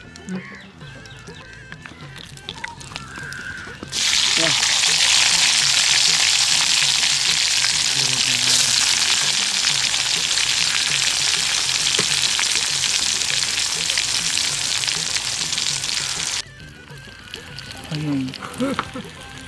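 Onions fry in hot oil outdoors in a coconut grove, a loud, close, steady sizzle that starts abruptly, runs about twelve seconds, then cuts off, with voices around it.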